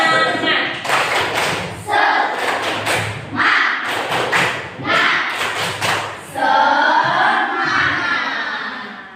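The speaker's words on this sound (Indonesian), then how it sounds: "mari kita tepuk semangat terlebih dahulu" Schoolchildren in a classroom perform a rhythmic spirit clap, bursts of unison clapping and thumps alternating with loud group chanting and shouts, close and energetic.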